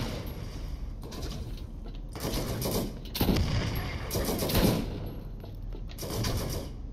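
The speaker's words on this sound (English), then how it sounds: "I like the high capacity of this shotgun." A high-capacity shotgun fires in the shooter game Borderlands with several heavy, booming blasts spaced about a second apart. Each blast carries a short mechanical rattle, all at moderate distance.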